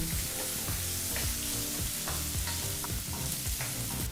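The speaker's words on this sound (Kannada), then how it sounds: "ಈರುಳ್ಳಿ ಹಾಗೆ ಕರಿಬೇವಿನ ಸೊಪ್ಪನ್ನು ಚೆನ್ನಾಗಿ ಬೇಳೆಗಳ ಜೊತೆ ಫ್ರೈ ಮಾಡ್ಕೋಬೇಕು" Onion and curry leaves fry with lentils over a medium flame for a snake gourd palya, making a loud, continuous sizzle with regular stirring scrapes nearby.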